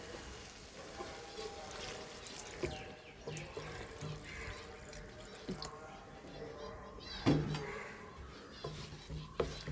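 A little water goes into a soya chunk curry in the pot, making soft intermittent splashes and drips that build to a brief louder pour near the end.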